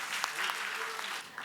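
Audience clapping at a school foundation project closing ceremony, a brief steady patter of many hands at moderate volume filling the hall.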